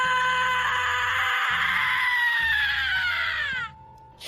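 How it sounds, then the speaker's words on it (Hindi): A long, piercing human scream of horror rings out close and loud for several seconds, its pitch slowly sliding downward before cutting off abruptly, over a faint low rumble. "अचानक रघु के कानों में किशन की दिल दहला देने वाली चीख सुनाई दी।"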